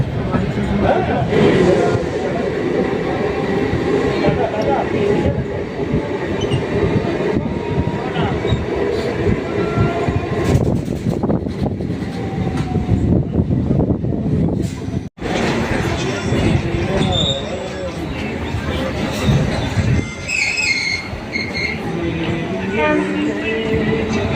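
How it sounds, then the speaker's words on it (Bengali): Inside a Kolkata suburban local train pulling out of Sealdah station on the Dankuni line, a loud, continuous rumble and wheel clatter fill the carriage, with squeals and rattles over the joints and voices in the background. "ট্রেন শিয়ালদা স্টেশন থেকে ছেড়ে দিয়েছে"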